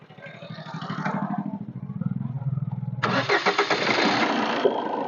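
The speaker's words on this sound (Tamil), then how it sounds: "நம்ம இன்ஜினை கிராங்க் பண்ணி ஸ்டார்ட் பண்றோம்" A car engine cranks with a rapid rhythmic churning for a few seconds, then catches and roars into a steady, louder idle.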